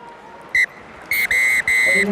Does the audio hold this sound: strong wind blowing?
no